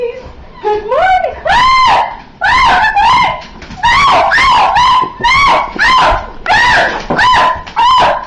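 Several dogs bark and yip in quick excited bursts, loud and close, with rising and falling cries overlapping through the whole stretch and little pause between them.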